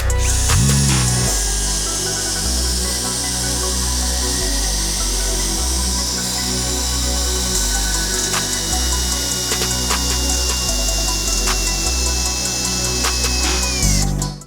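A Dnipro-M CD-12BC cordless brushless screwdriver drives a 22 cm structural screw into timber, a loud, close, continuous motor whine with rhythmic pulsing strain as the long screw bites in, running nearly fifteen seconds before stopping.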